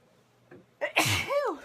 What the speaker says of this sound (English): I feel like I'm going to sneeze, so excuse me before I do.